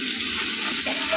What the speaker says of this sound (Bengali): মশলার সাথে মাছ আলু সব কষিয়ে নিচ্ছি